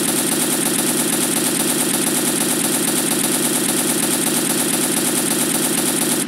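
A light machine gun fires in a low-budget homemade video game, with one loud, dense, continuous burst of rapid shots running unbroken throughout.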